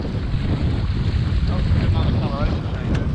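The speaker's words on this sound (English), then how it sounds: "In this constantly shifting wind" Steady loud wind buffets the microphone aboard a Hobie Island sailboat out on the water, a dense roaring rush throughout with faint water splashes beneath.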